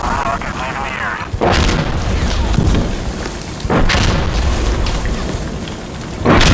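Rocket explosions from an air strike in the video game Insurgency Sandstorm, heard as three heavy booming blasts spaced a couple of seconds apart, each rising sharply over a constant rumble of background battle noise.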